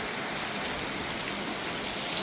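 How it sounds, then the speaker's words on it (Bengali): A downpour falls hard at night, its thick continuous roar of drops on surfaces loud and even throughout, alone without talk. "খুব জোরে জোরে বৃষ্টি, খুব জোরে জোরে"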